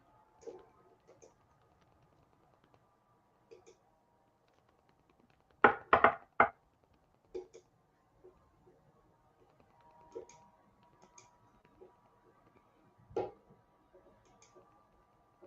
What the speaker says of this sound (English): Tom's clicking away here.